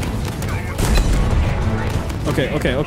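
Tank cannon blasts and explosions from Halo Infinite's campaign, loud booming bursts layered with gunfire over a dense game battle, with someone talking over the action.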